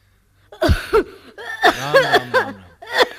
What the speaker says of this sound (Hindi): भाभी आज कैसा खांस रही है